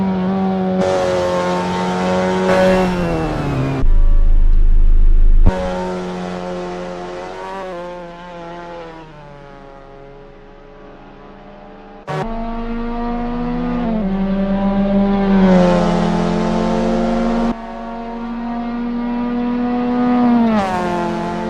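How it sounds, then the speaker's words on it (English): A Mazda MX-5 (NA) in a racing game at Mid-Ohio revs hard and loud through repeated gear changes, its engine note climbing and dropping with brief cuts between shifts, with no voices over it. "The car engine, I should say."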